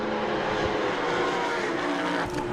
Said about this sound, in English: 2 very different engine notes in them cars too.